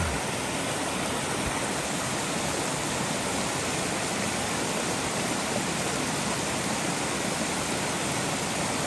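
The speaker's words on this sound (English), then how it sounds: "Pretty waterfall." A snow-melt waterfall on a forested mountain trail in Montana's Cabinet Mountains Wilderness, heard as a steady, loud, broadband rush of falling water that holds constant throughout with no voices.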